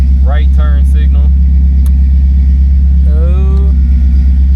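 A 1969 Oldsmobile 98 with a 455 V8 and custom exhaust idles in a loud, steady low rumble close by, while people talk over it.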